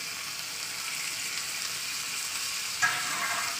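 Green chillies frying in a pan make a soft, steady sizzle, broken by one brief scrape or clatter as they are stirred.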